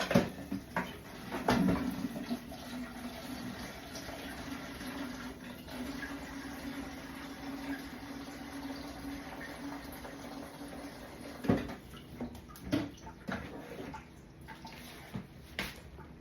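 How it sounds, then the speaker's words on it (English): Water splashes and trickles steadily at close range onto dry potted succulent soil, with a few louder pours and clunks near the start and toward the end. "I'm going to put a little water on it."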